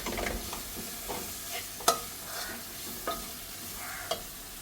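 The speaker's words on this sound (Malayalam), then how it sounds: "ഇപ്പം നമ്മൾ പൊടിച്ച് വെച്ച മസാലയൊക്കെ ഇതിൽ ഇളക്കിയെടുത്തിട്ടുണ്ട്" Ground masala stirred in a frying pan, a soft continuous sizzle broken by several scraping spoon strokes at irregular intervals, close and fairly quiet with no talking.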